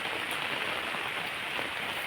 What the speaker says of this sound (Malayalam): പക്ഷെ എന്നാലും നന്നായിട്ട് മഴ പെയ്യുന്നുണ്ട്.